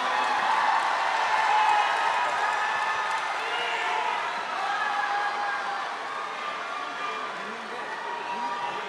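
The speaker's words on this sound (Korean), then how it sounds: "여러분 김문수 후보에게 큰 박수로 수락 연설을 청하겠습니다." A crowd at a political party convention applauds a candidate's acceptance speech, a broad, sustained wash of clapping and murmur that stays fairly loud and gradually eases.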